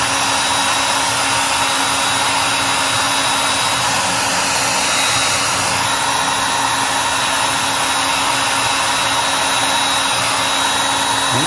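A hair dryer or heat gun blows steadily and loudly without a break, aimed at the glue under a guitar pickguard to soften it.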